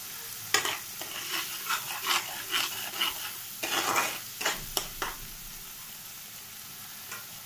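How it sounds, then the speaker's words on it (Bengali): Turmeric and salt masala stirred and fried in a pan for a boal fish curry, with a quick series of scraping spoon strokes over a steady sizzle, close and clear, easing off toward the end. "দিয়ে ভালো করে মশলাটাকে কষে নেব"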